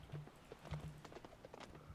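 Horse hooves clip-clop in a Roblox video game as a quiet, steady run of soft hoof beats with no talking.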